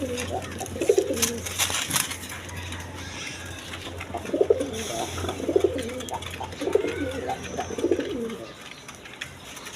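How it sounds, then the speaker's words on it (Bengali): A pair of red Gorra pigeons coo in repeated soft, throaty bursts at close range, with a few sharp clicks early on and faint background noise between calls. "এইখানে এক পেয়ার রেড কালার গররা কবুতর আছে দেখেন"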